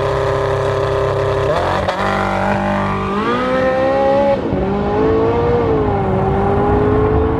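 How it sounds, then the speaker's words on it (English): A Tesla Model S P100D and a Porsche 918 Spyder drag race over a half mile, engines roaring and rising in pitch through repeated gear changes, loud and close, with a brief spoken word at the start. "Tesla Model S versus Porsche 918 Spyder."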